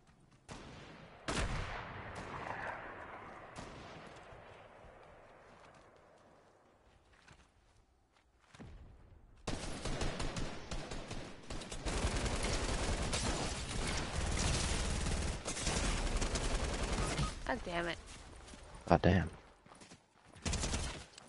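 SMG and shotgun fire in Fortnite, starting with scattered footsteps and isolated shots, then a long dense stretch of rapid gunfire with heavy blasts, loud and sustained, while players talk over it.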